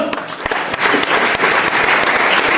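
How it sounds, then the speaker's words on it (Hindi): An audience at an Indian postal department event honoring Olympic athletes bursts into loud, close applause. Sharp individual claps stand out over a dense wash of clapping lasting a few seconds. "ये तालियां थोड़ी हुई"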